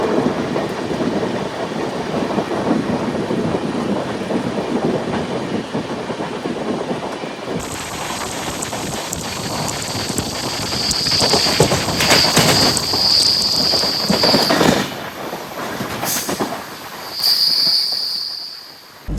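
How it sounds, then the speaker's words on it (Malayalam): Jamnagar–Tirunelveli Express rolling through Tirur station in Malappuram district, running late: a loud, continuous rumble of wheels and railcars throughout, with a shrill high wheel squeal and clatter joining midway, no talk. "ജാംനഗർ തിരുനെൽവേലി അങ്ങനെ 1 മണിക്കൂർ 40 മിനിറ്റ് ലേറ്റ് ആയിട്ട് നമ്മുടെ മലപ്പുറം ജില്ലയിലെ തിരൂരിലെത്തിയിരിക്കുകയാണ്."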